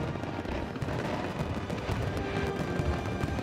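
New Year fireworks over Copacabana beach, about 20,000 shells and 30 tons fired, crackle and boom densely at a distance as a continuous roaring barrage.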